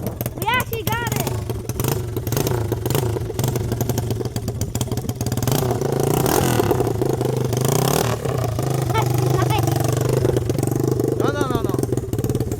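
A Honda XR100R motorcycle engine runs after starting, its loud, steady exhaust drone with uneven revving and clatter filling the whole stretch while people speak and shout over it.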